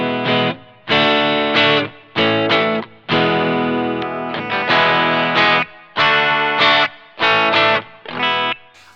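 Fender 60th Anniversary Jazzmaster electric guitar from 2018, played through an amp with its volume knob at 8, ringing out distorted, effects-laden chords in repeated strummed bursts with short gaps, loud and close.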